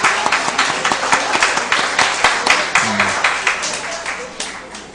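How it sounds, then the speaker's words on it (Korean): A church congregation bursts into applause to welcome visiting guests, dense rhythmic clapping from many hands filling the room for several seconds. "박수로서 환영해 줄까요?"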